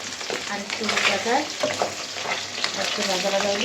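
Tomatoes and vegetables fry in oil in a pan for a pabda fish and eggplant curry, a continuous close sizzle and crackle with occasional stirring, a faint voice underneath.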